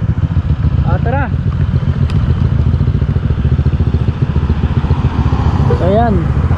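A group of six motorcycles rides along Marcos Highway with a loud, continuous engine drone close by, and revs briefly climb in pitch twice.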